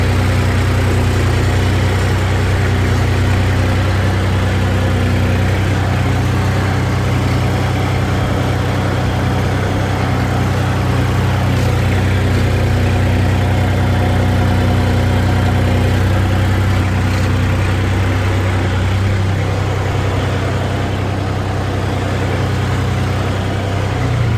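A New Holland 5510 4WD diesel tractor with four-wheel drive engaged works hard, cloddy farm soil, its engine a loud, continuous low drone with steady vibration throughout and no voices.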